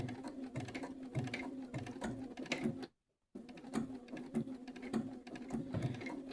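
A sewing machine stitches a T-shirt design onto the back of a flannel shirt, running in a steady, rapid rhythmic whir of needle strokes with a brief pause in the middle before resuming.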